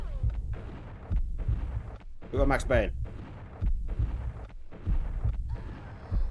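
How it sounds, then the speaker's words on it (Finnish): Ingram submachine gun fire in the Max Payne video game: repeated bursts of loud gunshots punctuate the clip, with someone speaking briefly in the middle. "On kyllä vähän huono ampua ingrammilla."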